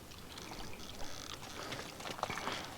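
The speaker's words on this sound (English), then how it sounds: "a spring creek running down this holler" A shallow, clean spring creek runs down an Appalachian hollow, producing a steady, close trickling and pouring of water with small splashy peaks throughout.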